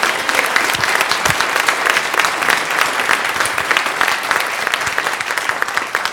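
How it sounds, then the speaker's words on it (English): Congregation clapping at a Sunday church service, a steady dense applause that holds at full strength through the whole stretch with no pause. "Don't be clapping too much."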